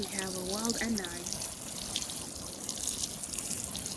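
A steady trickle of water falls onto a garden bed of garlic, a soft, even splashing that continues after a short bit of speech at the start.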